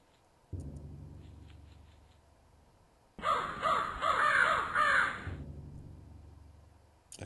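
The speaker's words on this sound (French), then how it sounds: "Le corbeau, ok." A crow caws in the Cube Escape puzzle game, a loud burst of several harsh caws in quick succession, set against a low ambient drone that fades in before and lingers after.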